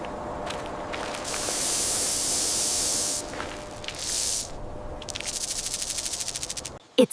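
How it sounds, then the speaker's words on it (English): A snake hisses in long, loud, breathy bursts separated by short gaps, the last stretch fluttering in rapid pulses. "It's a snake."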